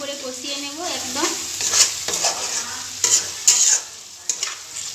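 Spice masala with ginger paste being stir-fried for a thin meat curry, spatula scrapes and stirring strokes over a gentle sizzle, close, with a few sharper clatters, and no talking.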